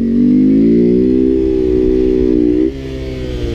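A Grom motorcycle engine revs to a loud, sustained, rising single-cylinder drone as it lifts into a wheelie, then the pitch drops sharply as the throttle eases off near the end.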